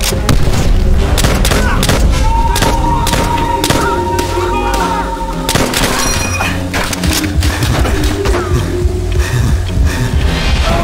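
Call of Duty: World at War battle: loud, dense machine-gun bursts and booming artillery blasts crowd together nonstop, while soldiers shout over the din.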